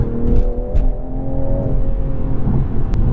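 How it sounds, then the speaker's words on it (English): A 2021 Toyota Supra 3.0 launching hard, its engine droning steadily with a sustained roar and whir as the rear tires fight for grip, heard from inside the car, loud and continuous. "Do one more launch. Those rear tires really have to fight for grip."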